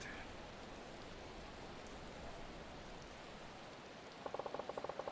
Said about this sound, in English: It started raining the moment he goes outside.